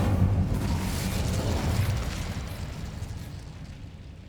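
The Incendio fire spell is cast in Hogwarts Legacy, a deep roaring, rumbling burst of flame that starts loud and slowly fades away over several seconds.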